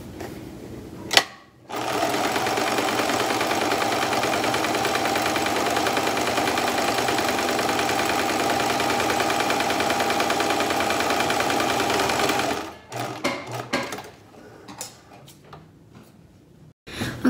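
A 15-year-old home sewing machine stitches a handmade fabric mask, running in one steady continuous whir for about eleven seconds after a brief start, then a few short stop-start bursts and clicks near the end.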